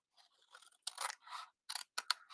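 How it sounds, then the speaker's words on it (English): Scissors snip through paper while cutting out a craft piece for a daisy project, a series of short, crisp cutting bursts close up with brief pauses between them, no talking. "So we're going to cut this out."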